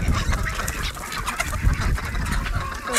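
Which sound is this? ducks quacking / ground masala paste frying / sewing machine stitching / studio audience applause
ducks quacking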